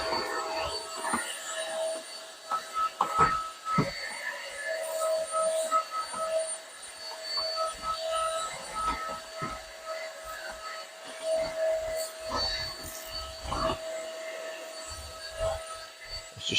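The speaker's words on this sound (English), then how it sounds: "This is powering the hoover." A vacuum cleaner powered by an Ugreen PowerRoam 1200W power station hums steadily with a whining motor tone, while bumps and knocks from moving it over the floor come and go throughout, with no talk.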